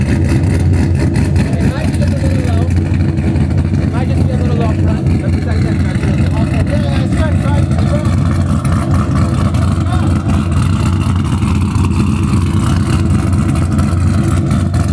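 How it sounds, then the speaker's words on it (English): A 2650-supercharged Sierra truck engine runs loud and close, with a constant heavy rumble and a supercharged whine sustained throughout. "the supercharger is the instant power, and it sounds way better"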